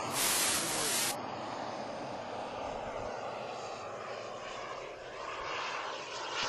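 A model airplane engine drones steadily overhead with a high whine as the plane flies after takeoff, accompanied by a brief burst of hiss at the start.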